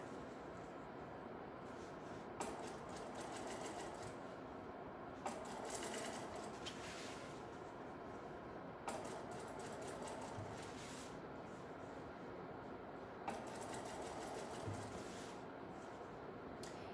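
A sewing machine stitching back neck tape onto a bodice runs in steady continuous whirring bursts, pausing briefly several times before starting up again, with no talk.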